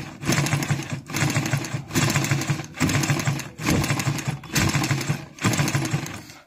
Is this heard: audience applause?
no